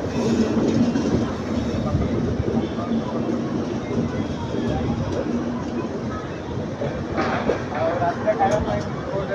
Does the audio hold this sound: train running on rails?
yes